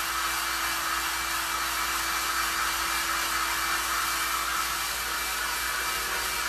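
A hair dryer blows on a craft piece, a loud, steady close whoosh with a constant hum that holds unchanged from start to finish.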